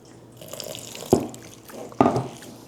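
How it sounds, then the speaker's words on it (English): Water poured in small amounts into garlic paste being prepared for a fish fry, two short splashing pours in a quiet kitchen. "I'm adding very little water in it"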